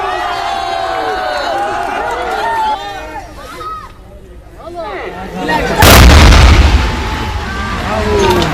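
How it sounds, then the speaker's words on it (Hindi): A dynamite blast brings down an old, dilapidated bridge at Pirpainti in Bhagalpur, a loud, deep boom near six seconds that rolls into heavy rumble, following a stretch of crowd and background noise. "तो देखिए किस तरह से डायनामाइट से पुल को उड़ा दिया गया और जमींदोज हो गया।"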